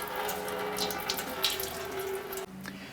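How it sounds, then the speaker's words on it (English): Coolant draining from the loosened radiator drain plug of a 2004-2008 Acura TL into a catch can, a steady close splashing trickle of liquid that runs on continuously, then stops abruptly near the end. "Go ahead and drain your cooling system."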